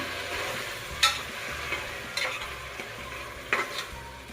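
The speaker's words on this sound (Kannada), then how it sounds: "ಇದು ಸ್ವಲ್ಪ ಹಸಿ ವಾಸನೆ ಹೋಗೋವರೆಗೂ ಫ್ರೈ ಮಾಡ್ಕೊಳ್ಳೋಣ" Vegetables for a green pulao are stirred and fried in a pan, giving a soft steady sizzle with a few sharp clinks of the spoon against the pan, fairly quiet and close.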